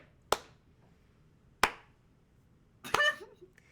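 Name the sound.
slow clapping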